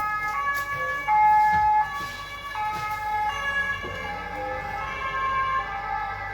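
Fire engine siren wailing outside a room, its rising and falling tones loud and clear over distant traffic rumble, with no one talking.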